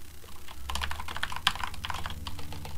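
Someone types on a computer keyboard while working on an IT task, producing close, irregular clusters of quick key clicks with brief pauses, over a faint low hum.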